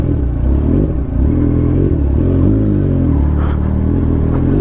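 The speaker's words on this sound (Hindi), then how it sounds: "पहली बार मैं इतने ख़राब रास्ते में चला रहा हूँ बाइक को" A heavy motorcycle runs along a rough, badly broken off-road track, its engine droning loud and steady with a low rumble and clattering wind noise throughout.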